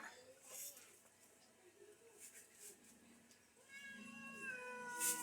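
A cat meows a few times amid people talking, the mews rising and falling in pitch, close by and moderately loud.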